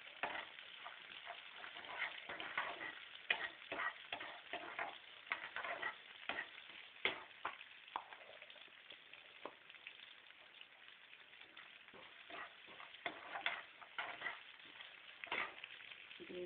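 Onions fry in a pan with a pinch of salt, a steady faint sizzle broken by small crackles and pops throughout, with no talk.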